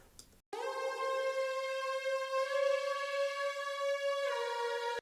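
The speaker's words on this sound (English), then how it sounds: "the last synth that I added is this counter lead" A bright synth lead holds long sustained notes, stepping between a few pitches in a slow melodic line, steady and fairly loud with no voices.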